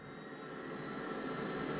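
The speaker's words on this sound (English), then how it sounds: "This is a hung start where the secondary fuel nozzles are not pumping fuel into the engine" An Air Tractor 502 turbine engine in a flight simulator makes a steady, low-level whine and rush during a hung start that does not fully light, holding fairly constant without speech.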